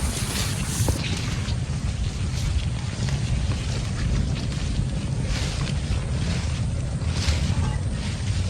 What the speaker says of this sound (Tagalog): Grabe, ulan na yun.